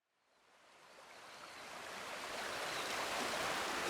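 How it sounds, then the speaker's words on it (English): A small babbling brook flowing, heard as steady broadband water rush that swells from quiet to a fairly loud, continuous wash with no voices. "I'm just walking down a little babbling brook."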